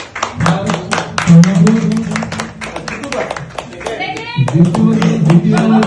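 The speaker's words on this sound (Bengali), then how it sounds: "বড় করে হাততালি" A group claps for the first-place winner of a candle competition at a Saraswati Puja gathering, with quick, dense, close hand claps mixed with children's and adults' voices, easing briefly before resuming.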